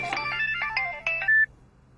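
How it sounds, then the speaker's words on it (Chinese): A mobile phone rings with an incoming call indoors, giving a short electronic ringtone melody of a few chiming notes that ends in a sustained high tone, close and clear, with no talking. "不好意思，我接个电话。"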